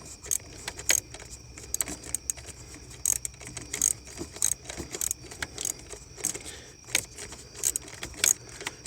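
Ratchet wrench turning on a 2010 Chevy Traverse during purge valve solenoid replacement, giving rapid repeated metallic clicks in short irregular bursts, fairly close and crisp against a quiet background.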